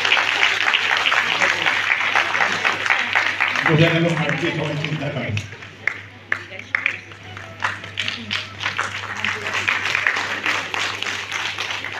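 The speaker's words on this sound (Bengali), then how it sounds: "সেই যত পারেন হাততালি দেন।" Audience at a Rabindra dance and Rabindrasangeet competition in Dibrugarh claps steadily, a dense patter of many hands running through the whole stretch while someone talks over it.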